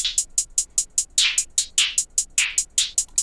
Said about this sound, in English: So with my hi-hats, I really process them, but they sound like this, raw.